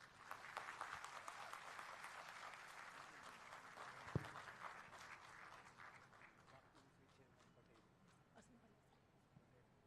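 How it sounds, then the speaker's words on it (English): Students at a convocation applaud in a dense, moderately distant wash of clapping that tapers gradually, with a single sharp thump near the middle and faint voices underneath. "I request students to kindly honor them with a good round of applause."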